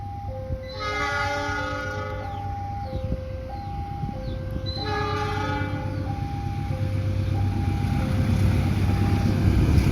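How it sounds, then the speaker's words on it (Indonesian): A train near Haurpugur station sounds its horn repeatedly in a melodic multi-tone pattern while the steady rumble of the passing train builds beneath it. "next kita akan lanjut hunting kereta api."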